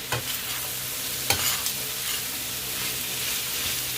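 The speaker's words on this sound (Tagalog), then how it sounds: "Haluin ulit natin." Carrots and green beans being stirred in a hot frying pan, a continuous close sizzle with a couple of sharp utensil scrapes against the pan.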